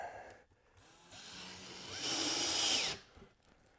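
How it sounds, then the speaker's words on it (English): An electric screwdriver drives screws into pre-drilled holes in a Best Choice Products lift-top coffee table. Quiet, brief whirs come first, then one louder sustained motor whine lasting about a second before it cuts off. "I'm going to use an electric screwdriver for this because there's 8 of them we got to put in."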